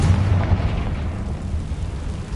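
A Confringo spell explodes in the Hogwarts Legacy video game as a loud, dense booming blast with rumbling low end that decays over about two seconds.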